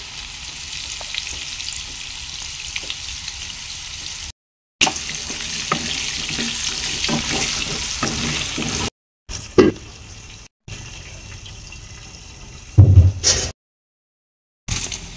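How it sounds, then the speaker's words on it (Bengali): Potatoes fry in oil in a wok with salt and turmeric, a loud continuous sizzle with stirring scrapes, broken by short silent gaps and a few sharp clatters toward the end. "আলুগুলো ভাজা হয়ে গেছে,"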